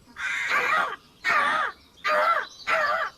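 A crow perched in a tree caws four times in a steady, evenly spaced rhythm, each call loud, harsh and close, calling out to its mate with short silent gaps between.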